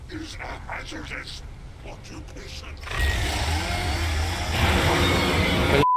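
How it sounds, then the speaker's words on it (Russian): Chainsaw-wielding enemy in Alan Wake roars in after a short lull of talking, a loud buzzing engine drone that builds and grows louder toward the end. "еще чувака с бензопилой мне не хватало"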